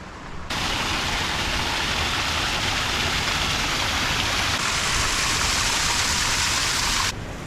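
Steady, dense rush of a waterfall on the Georgia River near Sydney, between Campbelltown and Liverpool, a loud unbroken roar close by that fills the whole stretch before cutting off near the end.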